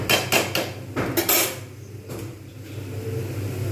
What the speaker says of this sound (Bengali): জল দিয়ে ঢাকনা দিয়ে দেবো